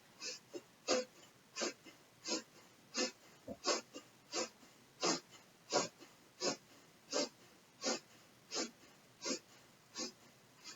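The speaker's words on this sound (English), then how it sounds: "It's rapid shoulder shrug breath, but you can take it whatever pace is comfortable for you." Rapid shoulder shrug breathing in a Kundalini practice, a quiet, close series of about eighteen sharp, evenly spaced breath bursts with a steady rhythm and no talking.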